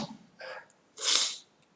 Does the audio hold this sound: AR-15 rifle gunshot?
no